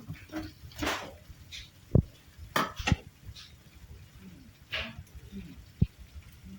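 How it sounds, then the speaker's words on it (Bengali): Fried paneer stirred into an oily masala in a pan for paneer butter masala, with scraping and a few sharp spoon knocks against the pan spread through a quiet kitchen, close up and without talk. "পনিরটা ভালো করে মিশিয়ে নেব মশলার সাথে"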